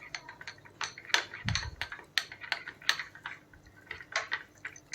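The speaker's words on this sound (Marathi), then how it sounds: "असं हे छान फेटून घ्या चांगलं पीठ" Ragi (nachni) flour batter mixed with water and whisked briskly in a bowl, giving quick uneven clicks and scrapes of the utensil against the vessel, close and fairly quiet, with no talk.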